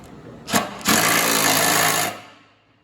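Mechanical work on the deck assembly of an Allis Chalmers 919H mower: a short clunk, then a sustained, close, loud whirring tool noise lasting over a second that fades out, with no talk.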